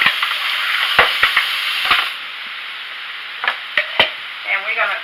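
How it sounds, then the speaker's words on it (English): Shrimp and crawfish sauté in a hot pan with a bright, steady sizzle, punctuated by sharp pops and spatula clacks. The frying quiets midway, leaving scattered taps and crackles. "now basically what I'm doing is just sauteing them off."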